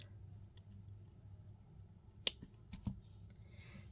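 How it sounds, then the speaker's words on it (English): A single crisp snip cuts away the excess wire on a holiday bead necklace, a brief quiet click amid soft handling clicks at a close, hushed workbench. "Snip off the excess."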